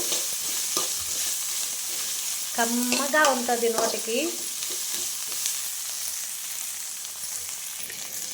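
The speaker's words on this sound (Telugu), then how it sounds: "ఇవి వేగిపోతే మనకు పచ్చడి అయిపోయినట్టే" Ivy gourd and mint fry in a pan for chutney, giving a steady close sizzle throughout with light stirring, while a person talks briefly in the middle.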